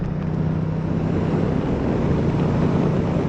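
Steady wind roar buffets a rider on a Suzuki V-Strom 1050 XT motorcycle with its windscreen lowered, a loud, continuous broadband rush with a low engine drone underneath and no voices.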